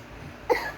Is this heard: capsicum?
no